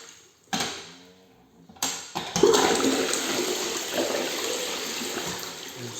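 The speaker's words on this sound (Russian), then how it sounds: "Унитаз проверим." A newly installed toilet in a freshly renovated bathroom flushes close by, a sharp click then a rushing gush of water that swirls and keeps running to the end.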